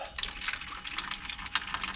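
Water runs steadily out of a partly plugged water heater drain valve, a continuous close splashing trickle that swells slightly and carries small splashy bursts throughout.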